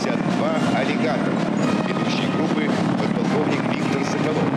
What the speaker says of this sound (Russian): пилотажная группа «Вермуты» на вертолетах Ми-28Н «Ночной охотник»